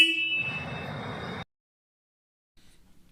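Horn of a TVS Ronin 225 motorcycle, one steady electric honk lasting over a second and cutting off abruptly, followed by silence and faint handling sounds.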